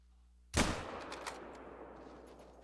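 A single loud hunting rifle shot in theHunter: Call of the Wild cracks out of near silence, then trails off in a long fading echo with a few faint ticks afterward.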